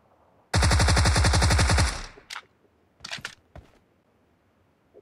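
Tommy gun fire in a shooter video game: one loud, rapid automatic burst lasting about a second and a half, followed by a few short, fainter shots and clicks, with no voices.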